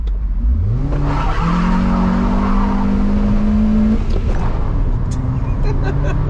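A BMW E39 with a drilled exhaust launches hard, its engine revving up sharply and then holding a loud, rising drone before easing off. A voice speaks over the engine noise.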